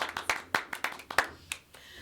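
Sparse, distinct hand claps at a small French community event, about ten separate claps over two seconds, fairly faint and slightly irregular, with no voices over them.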